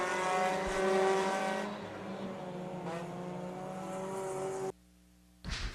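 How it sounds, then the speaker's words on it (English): Short-track race cars roar and rev as they accelerate down the straightaway, with loud layered engine tones sweeping up in pitch before the sound cuts out abruptly. "Checkered flag falling for Chris Sammons, excuse me. Who's going to be second? Standby scores out of the corner, drag race to the line"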